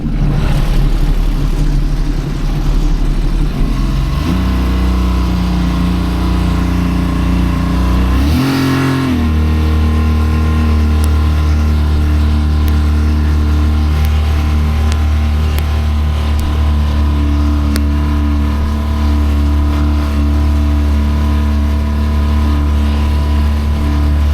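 A boat engine runs loud and close, droning steadily with a pulsing hum and a brief shift in pitch partway through.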